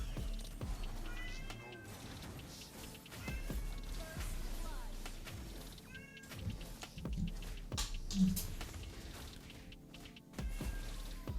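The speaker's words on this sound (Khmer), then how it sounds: "ស្ដាប់សំឡេងឆ្មាខ្ញុំយំសិនទៅអូ" A pet cat meows several times, short plaintive cries spaced a few seconds apart, over low background noise with some faint talk.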